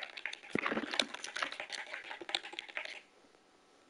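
Computer keyboard keys clicking rapidly during Fortnite play, a close, irregular patter of sharp taps for about three seconds before stopping.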